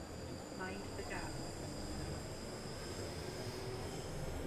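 Steady rumble of a train in Train Sim World 2 on the Cathcart Circle Line, a continuous rolling drone with faint high tones, heard from underneath the carriages.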